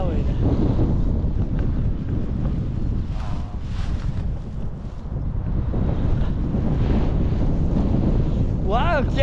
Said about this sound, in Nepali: वाउ क्या दामी हावा